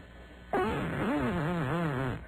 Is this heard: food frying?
no